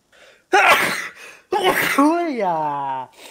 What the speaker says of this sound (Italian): Ho starnutito e ho dato un bacino all'aria.